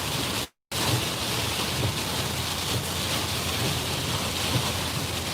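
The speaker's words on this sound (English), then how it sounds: "It's raining pretty good here." Steady heavy rain from Tropical Storm Isaias pours down at Myrtle Beach, South Carolina, a dense, constant hiss that drops out briefly near the start and then resumes with no voices.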